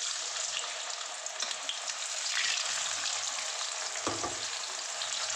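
Lentils (dal) for homemade chanachur fry in hot oil, a steady close sizzle and bubbling hiss with occasional stirring scrapes and a brief louder spatter near the end.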